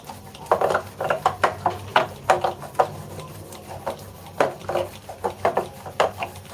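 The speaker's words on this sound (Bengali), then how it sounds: "বেশ কিছুক্ষণ সময় নিয়ে এটা এইভাবে ঘুটে নেবেন" Batter for eggplant fritters is beaten by hand in a bowl, making a quick rhythmic run of soft knocking and sloshing strokes. The strokes come in a steady stream with brief pauses.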